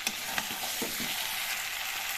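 Chicken pieces frying in a pan: a dense, steady sizzle with a few soft stirring scrapes early on, close and moderately quiet.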